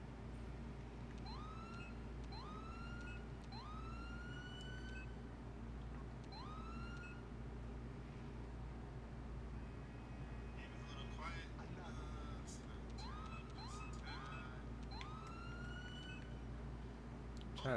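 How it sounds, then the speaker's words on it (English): Ambulance sirens in the GTA 5 video game, from a paramedic mod driving a Durastar ambulance. Repeated rising wails come and go quietly under a low, steady engine rumble, with brief clattering bursts midway. "The sirens are pretty low."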